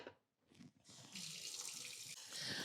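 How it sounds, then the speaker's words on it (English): Cold water gushes from a kitchen sink tap onto potatoes in a pot for potato salad. After a brief, softer start, a steady, close hiss of running water continues without pause. "Let's head over to the sink and add cold water."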